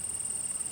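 Biting insects in a forest make a steady, faint, high-pitched buzz that runs unbroken through the short moment with no voices.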